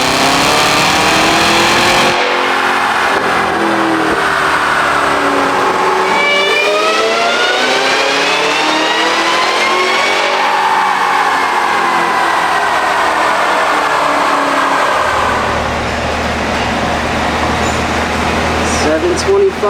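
A Cadillac Escalade V with a ported Kong 2650 supercharger and heads cam, strapped down on a hub dyno, revs hard in repeated loud pulls that climb to a scream and drop back, ending in a lower idle.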